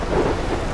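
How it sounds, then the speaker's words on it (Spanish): Thunder rumbles heavily through a storm in the video game Life is Strange, a dense low roll mixed with steady rain, loud and continuous for under a second. "qué tormentón, qué tormento"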